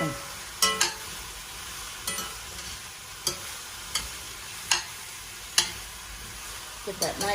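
Quiet sizzling of onions, potatoes and celery sautéing in a pan, with occasional clacks of a utensil stirring and scraping.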